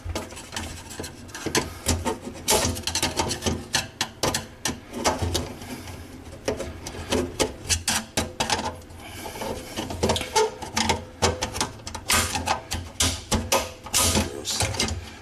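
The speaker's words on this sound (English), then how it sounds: "So you simply have to pry that ring off." A split retaining ring is pried off a garbage disposal, making a busy stretch of metallic scraping, clicking and ratcheting taps that continues close up with no speech.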